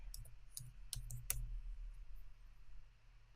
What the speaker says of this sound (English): So I'll type in spring.